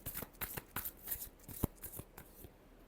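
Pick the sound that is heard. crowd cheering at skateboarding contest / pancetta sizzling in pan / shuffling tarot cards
shuffling tarot cards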